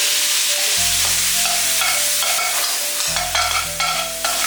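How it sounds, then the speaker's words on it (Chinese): Luffa gourd stir-fried with minced garlic in a hot wok, a loud close sizzle broken by rhythmic metallic scrapes and clanks of the spatula, with a low steady hum underneath and no speech. "快速翻炒一下"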